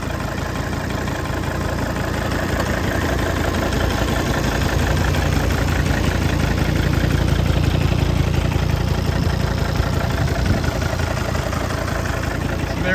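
A Volvo XC90 engine with a fault idles steadily, heard up close in the open engine bay as a constant, loud mechanical hum with no talking.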